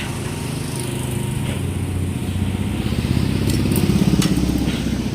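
A Bajaj Pulsar 220 motorcycle engine with a faulty, rough sound runs steadily close by, a dense low mechanical drone that grows slightly louder toward the end, with no talking.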